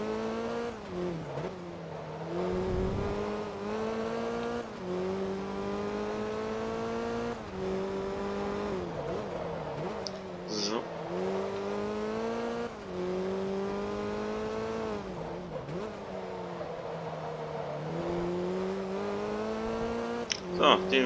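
Race cars in Forza Motorsport 2 roar through repeated gear shifts, their engine pitch climbing and dropping in a steady cycle, with a voice talking over the engines throughout.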